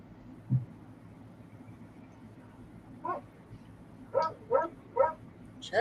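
A dog barks several times in a short burst, with one bark near 3 s and then a quick run of three to four barks toward the end, over a quiet room background.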